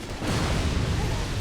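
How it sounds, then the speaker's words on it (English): A loud explosion in the video game Dark Souls 2 fills the clip with a dense, sustained rumbling blast that holds steady throughout, with no voices over it. "The explosion missed for a second and then knocked me right into that pit."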